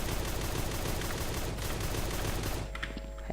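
Dense, continuous automatic gunfire from a Type 56 rifle in the online shooter game Truy Kích, loud and rapid for most of the stretch, then thinning into scattered shots and ringing effects near the end.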